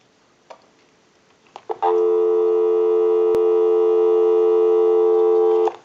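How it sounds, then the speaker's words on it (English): A steady telephone dial tone comes on after a few faint clicks and holds continuously at a loud, even level before cutting off. "We'll go ahead and give you some dial tone."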